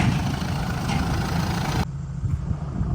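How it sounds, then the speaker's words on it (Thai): A tractor engine rumbles steadily at close range, loud and continuous, with a slight shift in tone partway through. "รถไถครับ"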